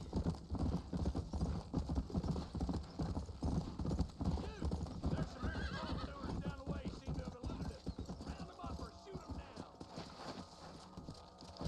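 Hooves of a galloping horse beat out a rapid clip-clop rhythm in the Western video game Red Dead Redemption, with a whinny and someone talking over the game sounds.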